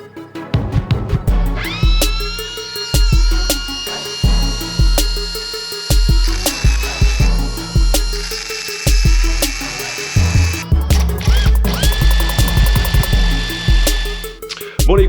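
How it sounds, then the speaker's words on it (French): An electric drill boring through a stainless steel exhaust silencer, loud and close, in repeated bursts of high grinding whine that stop and restart, with piercing squeals as the bit bites the steel. "Je vais percer mon silencieux."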